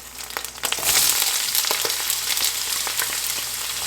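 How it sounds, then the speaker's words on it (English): Onion hits hot oil with cumin seed in a pan, bursting into a loud, steady sizzle and crackle that continues close up without talk. "let's fry this onion here"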